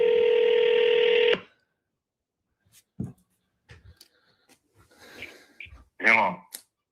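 A telephone dial tone or keypad tone sounds steadily for just over a second, then stops abruptly, followed by faint clicks, rustles and soft mumbled speech close to the phone.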